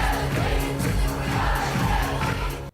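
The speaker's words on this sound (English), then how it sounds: "That's a great chant." Crowd at a Vancouver Rise women's soccer game chanting in unison, a rhythmic, fairly distant swell of many voices with pulsing beats, fading out abruptly at the end.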